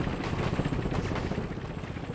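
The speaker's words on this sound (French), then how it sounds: "Putain, y'a un hélico qui veut ma mort, les loulous." Helicopter in the video game Dead Rising 4 sounds as a low, throbbing rotor chop with a steady pulsing rhythm at moderate loudness, joined by faint sharp gunfire-like bursts and no talking.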